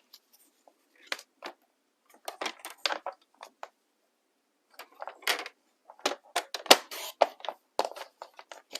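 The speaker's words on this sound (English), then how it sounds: "On the long strip, we're going to cut at 2 inches." Scissors snipping a long strip of Stampin' Up! Abstract Beauty designer paper at the 2-inch mark, a series of short crisp cuts in quiet bursts with pauses between, close up.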